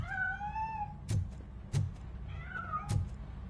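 Cat meows in the video game RoboCop Rogue City, three drawn-out, wavering cries separated by short knocks or thuds, fairly close and clear, with no talking.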